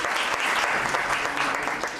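Steady audience applause for the presenters at a book launch event, full and continuous clapping from a seated crowd, easing slightly at the end.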